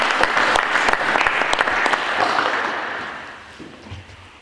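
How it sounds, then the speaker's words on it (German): Applause at a ceremony appointing a new fire officer, a dense crowd clapping loudly and evenly before slowly thinning and fading out toward the end. "einen großen Applaus"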